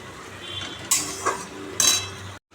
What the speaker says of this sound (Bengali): মশলাটা কষাচ্ছি এখন একটু এর সাথে তেল বেরোবে